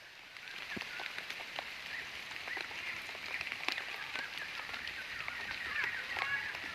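A dense outdoor chorus of bird calls in a forest fills the air steadily, many overlapping short notes with no voices.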